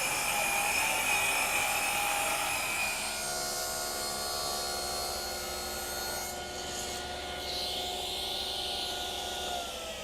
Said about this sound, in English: I'll just clamp that in place, and then I'll cut it with the circular saw